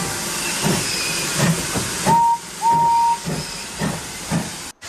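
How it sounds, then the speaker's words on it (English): A steam locomotive releases a long, steady hiss of steam over rhythmic chuffing, with two brief whistle-like tones partway through, loud and close until it cuts off abruptly. "When he's sad, he lets out a slow whoosh of steam"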